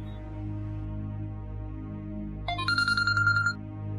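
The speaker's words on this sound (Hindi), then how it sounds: "है समीना भाभी का फोन?" A mobile phone rings with a bright electronic tone, a short burst of chiming notes lasting about a second over a steady low background hum, with no talking.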